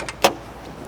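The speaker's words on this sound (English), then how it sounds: "let's open the driver's side door" A single short click and clunk as the driver's side door of a 1990 Volkswagen Cabriolet is opened, quick and fairly close, with a softer tick just before it.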